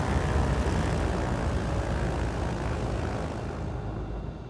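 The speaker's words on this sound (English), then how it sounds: "Stop the engines now." Trislander aircraft engines shutting down in a flight simulator after a flight from Guernsey to Alderney: a loud, steady propeller-engine drone that holds broadband and dwindles slightly toward the end.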